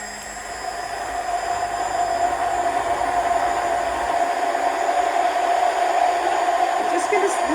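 A blender whirs steadily while emulsifying homemade mayonnaise in a jar. The loud motor whine rises at the start and then holds a constant, close, noisy drone.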